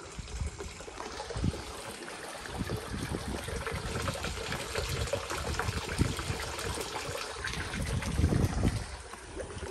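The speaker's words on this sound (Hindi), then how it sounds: "ये भर के ये वाला पानी ही इसमें गिर रहा है शायद" Soft, continuous water trickle and splash falling into a village pond, faint and steady with gentle swells in level and no speech.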